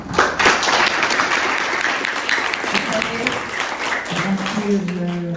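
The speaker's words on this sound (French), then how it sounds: "avant de remercier Madame Zena, qu'on va applaudir très fort." Audience applause at a literary café rings out loud and dense, with a few sharper individual claps, while a voice speaks over it toward the end.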